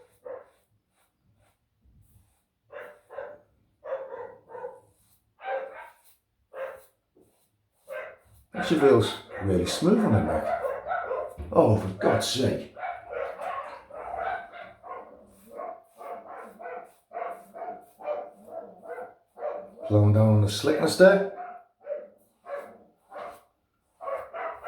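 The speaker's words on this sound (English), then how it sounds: "Sorry about the dog, this barking" A neighbour's dog barks next door in bursts of yips and barks, mostly under someone talking close by while he shaves with an adjustable safety razor.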